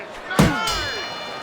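A single boxing round bell in the Fight Night Champion video game clangs once and rings on with a fading metallic tone, heard fairly close amid faint background noise.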